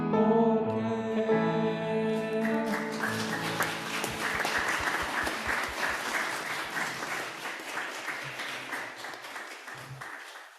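A church congregation bursting into warm applause at the end of a song, the last sung notes giving way to dense, sustained clapping that gradually fades.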